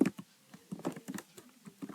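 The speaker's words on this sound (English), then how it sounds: "I'm just gonna type a plus, and then I'm just gonna type create." Computer keyboard typing during web page design work in Figma: scattered, crisp key clicks in short irregular bursts, close and fairly quiet, with no voices.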